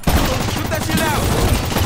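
Rapid gunfire in a loud co-op shooter heist mission, aimed at advancing shield enemies, forms a dense, continuous barrage of overlapping shots, with game voices calling out over the chaotic din.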